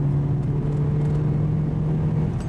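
A steady, loud Porsche 944 Turbo engine drone hums inside the car while accelerating, a sustained low tone holding as it pulls, with no voices.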